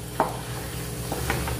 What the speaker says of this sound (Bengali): নারকেল কুড়ার সঙ্গে গ্রেভিটা ভালো করে মিশিয়ে নিচ্ছি